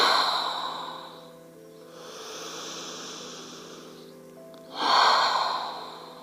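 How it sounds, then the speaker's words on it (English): Slow deep breathing during a wake-up meditation and yoga session: a long airy inhale, a quieter exhale, then another strong breath, close and unhurried with no talking. "Let's do 3 more of those deep breaths, inhaling and filling the lungs, and letting it all go on the exhale"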